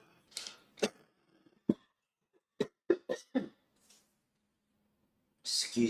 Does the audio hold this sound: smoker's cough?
yes